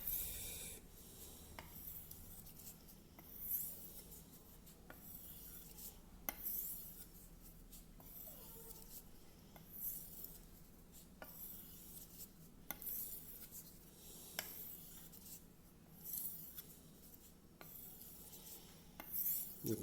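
A Racer M knife is drawn back and forth across a wet Japanese whetstone, giving a soft, steady rasping scrape in repeated strokes, up close and quiet, with no voices.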